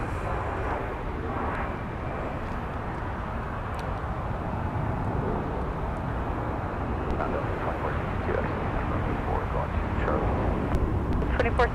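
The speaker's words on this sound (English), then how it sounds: "Delta showed up from Destin, Fort Walton Beach with an X Northwest A320." A Delta Airbus A320 in ex-Northwest colours arrives on the runway with a sustained engine roar, heard at a steady level throughout while someone talks over it.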